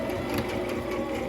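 A sewing machine back-stitching a ruffle, a steady, close, fast mechanical whir and needle chatter running throughout without pause.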